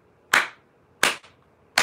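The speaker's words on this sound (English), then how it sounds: "everyone clap for Sherry Ford" A few sharp hand claps, three distinct smacks spaced irregularly with short decays, close by and alone in a quiet room.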